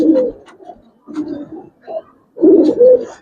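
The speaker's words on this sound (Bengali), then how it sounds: "এই যে পেয়ারটা অনেক সুন্দর ডাকে।" Several pigeons coo in close, repeated bursts with short pauses between, fairly loud and near; the birds are Giribaz silver-coloured and Banchha racer pigeons kept for sale, currently in moult.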